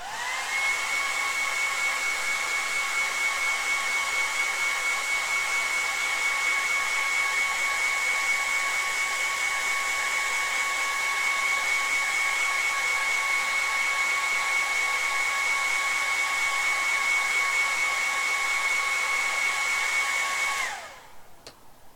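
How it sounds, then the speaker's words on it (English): Hair dryer blowing continuously for about twenty seconds to dry a freshly painted Warhammer 40,000 Conquest model, a loud, steady whine and whoosh held close by, then switched off near the end. "So we just need to give this a quick blow again, just to dry it out."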